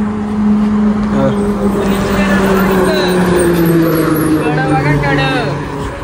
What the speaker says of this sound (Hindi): गाडी येतो, गाडी येतात